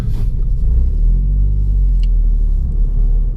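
A 2019 Ford Fiesta ST's engine rumbles deeply and loudly from inside the car, a steady low drone with a slight swell midway.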